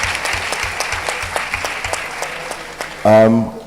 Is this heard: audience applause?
yes